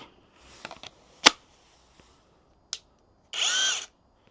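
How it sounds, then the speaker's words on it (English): SeeSii half-inch drive cordless impact wrench giving a brief high-pitched whirring burst near the end, after a few clicks and handling knocks, close and alone. "we do have our nice little impact wrench right here, and this one is a 1/2 inch drive"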